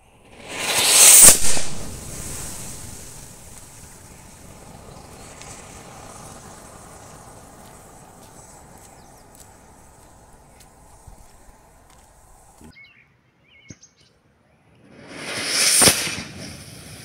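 Amateur ammonium perchlorate solid rocket motor fires on a test stand with a loud roaring burst that settles into a steady hiss for about ten seconds, then cuts off, followed by a second sharp roaring blast as the nozzle fails.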